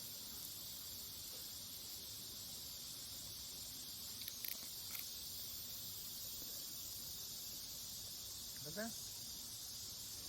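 Cicadas sing in a steady, high-pitched drone that fills the whole scene at an even, moderate level, with faint brief chirps and a soft rising call near the end over a low background hum.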